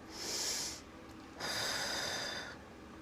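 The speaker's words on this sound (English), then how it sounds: "So let's take a deep breath." A slow, deep breath drawn in and then let out, two soft airy swells with a short pause between them, close and alone with no talk.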